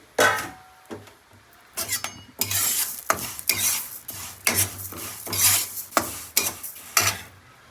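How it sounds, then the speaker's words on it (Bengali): Mung dal dry-roasting in a dry wok, with repeated scraping and stirring strokes of a spatula against the metal, irregular bursts of rasping over a faint low hum, close and fairly loud. "সবার আগে ডালটা ভেজে নেব মুগ ডাল তো এটা আর কি শুকনো কড়াই একটু ভেজে নিই"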